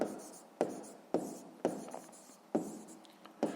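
A pen scratches out a written answer on paper for sixth-grade maths homework, short close strokes with a sharp tap starting each of about six bursts in a quiet room.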